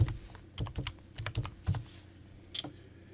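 A password is typed on a computer keyboard while setting up a web hosting account: a quick irregular run of close, crisp key clicks with short pauses between bursts.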